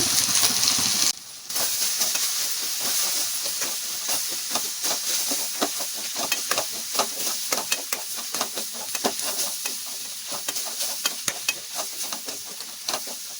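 Brinjal stir-fries in a pan with turmeric, chilli, coriander, ginger and garlic spice powder, giving a loud continuous hissing sizzle overlaid with rapid, rhythmic scraping strokes of a spatula.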